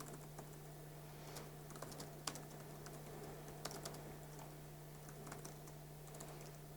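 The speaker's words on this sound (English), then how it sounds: "I don't even have a script for this, I'll just type it in." A DTrace command goes in on a computer keyboard as steady, fairly quiet key clicks with irregular rhythm and a few louder taps, over a constant low hum, with no talking.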